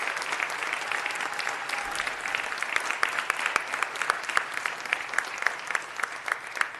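An audience at a city council meeting gives a long, steady round of applause, a dense, even wash of many clapping hands that carries on for several seconds with no talking over it.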